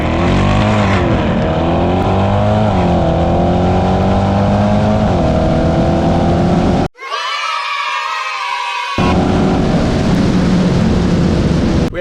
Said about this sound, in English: the last race of the night against my friend Tony in the Rapid Blue C8.